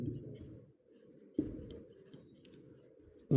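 Chalk or marker strokes on a classroom board, soft scratchy scraping in short bursts with a couple of taps, faint and close, alone without talk.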